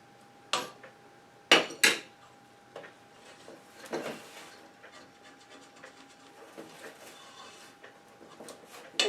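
A spatula scraping and folding brownie batter made with cocoa powder in a pan: several sharp knocks against the pan, then soft irregular scrapes and rubs, close but fairly quiet, with no talking.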